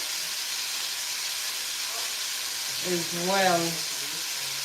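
Meat sears in a hot pan with a steady broadband hiss and sizzle, continuous throughout, while a voice speaks briefly over it near the end.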